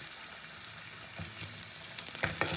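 Potatoes fry in oil in a pan with a quiet, steady sizzle, joined near the end by a few sharp clinks and scrapes of stirring.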